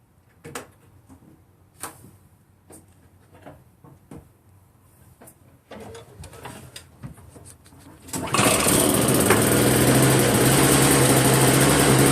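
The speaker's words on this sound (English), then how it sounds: "the auger now works and moves just fine" Repaired snow blower with its engine starting up after scattered clunks and handling knocks, then a loud, steady high-pitched engine drone with the auger turning, running continuously to the end.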